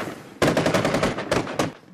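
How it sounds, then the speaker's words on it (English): Gunfire during militant street clashes in the Iraqi city of Kirkuk, a sudden loud burst of rapid automatic shots followed by a couple of separate cracks, close and harsh with no voices. "Gunfire erupted on the streets of the Iraqi city of Kirkuk"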